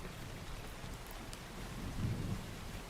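Steady rain pours outdoors during a thunderstorm, a dense continuous hiss with a low, faint rumble of distant thunder swelling briefly near the end.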